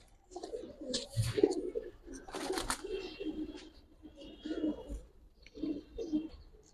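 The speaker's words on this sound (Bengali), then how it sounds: "এটা নর কবুতর, এটা হচ্ছে কোবরা পাত্তি ভাই।" A male Kobra Patti pigeon coos in repeated low throaty phrases at close range, with fluttering and shuffling noises in between and a voice faintly in the background.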